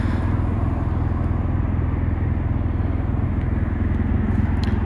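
A 2022 BMW R1250RT motorcycle engine running after a keyless start, a steady, loud, close idle rumble that holds evenly throughout with no talk.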